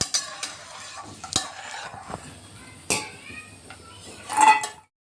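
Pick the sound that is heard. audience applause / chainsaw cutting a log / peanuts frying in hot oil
peanuts frying in hot oil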